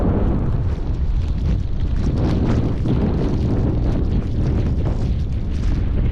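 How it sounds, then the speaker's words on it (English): Strong winter storm wind roars continuously across an exposed edge during heavy snow and ice, a loud, steady rumbling buffet battering the microphone throughout with no pauses. "Just hang off the edge, you'll feel that wind."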